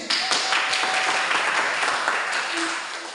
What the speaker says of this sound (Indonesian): tepuk tangan untuk tulis